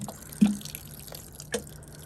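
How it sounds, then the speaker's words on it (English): Water poured onto garden soil freshly covered over planted potatoes and bone meal, heard as a few soft, scattered drips and splashes, faint and close, with quiet gaps between them. "now I'm just gonna water it a little more"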